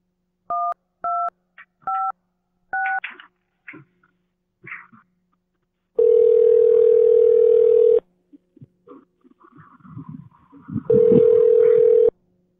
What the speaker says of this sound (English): You're just going to hear a ringing noise.